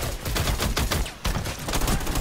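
Rapid video-game gunfire rattles in a dense, continuous burst of shots, pausing briefly near the middle before another volley resumes, loud and close with no talking.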